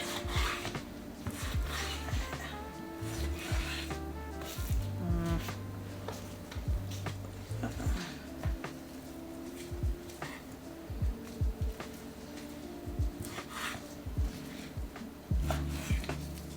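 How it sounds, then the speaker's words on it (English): A knife slicing a beef roast into chunks on a cutting board, with repeated short cuts and scraping strokes at an uneven rhythm, close and fairly quiet over faint background music. "I'm gonna cut it into some chunks"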